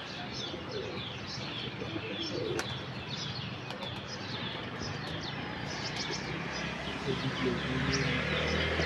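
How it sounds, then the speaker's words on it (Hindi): Wings flap as a black racing pigeon comes in to land during a one-day pigeon-flying tournament, with soft cooing and scattered chirps from other birds amid steady outdoor background noise. "ये पहला कबूतर बैठ गया जी, काला चीना।"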